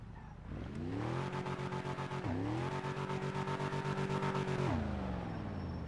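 A twin-turbo Falcon race car engine in the game FiveM revs high and steady at Texas Motorplex with a buzzing, pulsing drone, dipping briefly twice before climbing back, loud and close with no talk.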